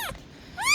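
Two short, high mewing cries from a small, very young kitten, the first brief and fading, the second rising and louder after a pause.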